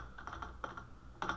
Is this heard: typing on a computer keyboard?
yes